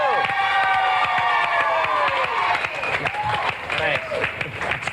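Studio audience on a television morning show applauding and cheering for a singer, a loud, sustained burst of clapping with voices and whoops mixed in, steady for several seconds before easing slightly.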